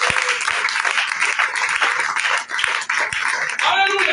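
A church congregation applauds in a sustained burst of dense clapping that fills the room and fades briefly before swelling again.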